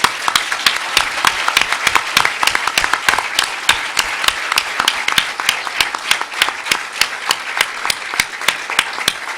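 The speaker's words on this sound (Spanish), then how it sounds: "Bueno, jóvenes, un aplauso" A room of young people breaks into sustained applause, dense and steady for the whole stretch, loud and close with no voices on top.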